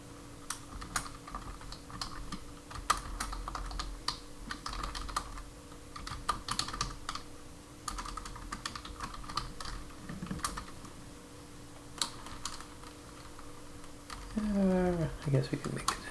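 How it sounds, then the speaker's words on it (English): Typing on a computer keyboard while editing a Shopify store home page, with quick irregular bursts of key clicks separated by pauses, close and fairly quiet, and a voice briefly heard near the end. "We can just type in"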